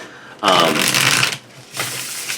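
A tarot card deck is riffle-shuffled close up in two quick bursts of crisp, flapping card noise, separated by a short pause, with no voices.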